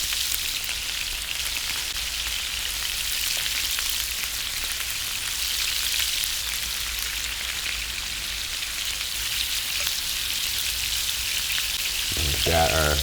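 Breakfast sausage patties searing in a crowded pan, a steady loud hiss of frying fat with fine crackle throughout, and a short clatter near the end.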